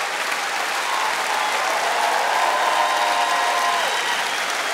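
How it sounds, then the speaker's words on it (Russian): Hall audience at a televised comedy show applauds in a dense, sustained burst of clapping, loud and even throughout with no talk over it. "вам аплодисменты, конечно же, всего зала"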